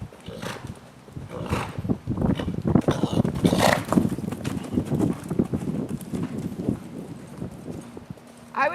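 A horse lopes along, hooves thudding in a steady, fairly quick three-beat rhythm at moderate distance, with a few snorts and faint ambient noise between strides.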